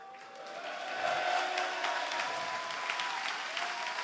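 Sustained applause from a conference keynote audience at a francophone MoodleMoot, steady clapping from a large crowd that swells after the first second and holds evenly, with a faint tone running underneath.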